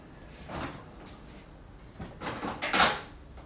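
A refrigerator door swishes open and then thuds shut a couple of seconds later, faint and close, in an otherwise quiet room.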